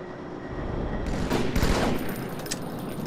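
Gunfire in a Halo multiplayer match: a cluster of rapid loud shots bursts out in the middle, over a continuous background of battle noise.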